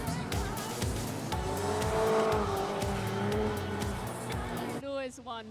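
Race car doing celebratory donuts at a Stars & Cars event, tyres squealing in a long wavering howl over a pulsing, revving engine, close and loud, with voices chattering briefly near the end.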